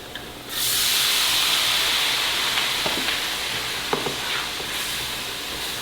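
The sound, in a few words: vegetable broth added to hot pan, sizzling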